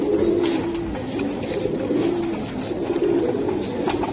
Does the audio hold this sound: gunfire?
no